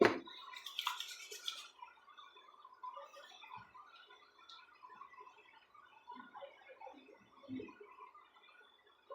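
Teeth brushed with a toothbrush during a morning routine: close, quiet scrubbing strokes in an uneven rhythm running throughout, with a brief burst of hissing water or rustle at the start.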